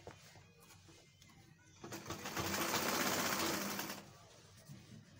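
Sewing machine stitching agbada fabric, a steady loud whir rising in the middle of the clip and running continuously for about two seconds before stopping, with quieter room sound on either side.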